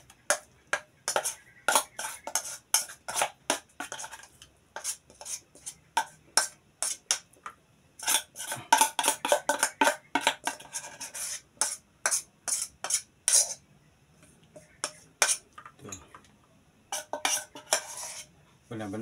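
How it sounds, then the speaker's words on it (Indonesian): A metal spoon stirs a cassava mixture in a pot, giving quick irregular clinks and scrapes against the pot in bursts, loud and close, with short pauses in between. "Kita aduk-aduk, jangan sampai berhenti ya diaduknya ya"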